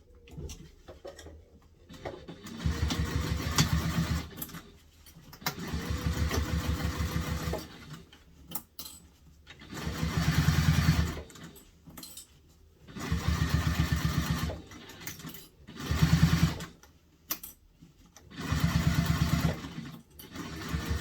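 A home sewing machine stitches through thick backpack fabric with a longer stitch length, running in rapid mechanical bursts of a few seconds each, separated by short pauses, fairly close and steady.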